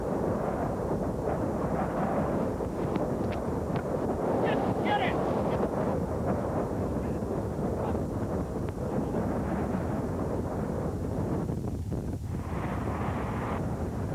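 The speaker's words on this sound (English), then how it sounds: "Winds gusting up to 70 miles an hour slam dirt and sand into everything." Strong tornado downdraft gusts of up to 70 mph blasting dirt and sand, heard as a continuous roaring wind buffeting the microphone with gritty bursts throughout.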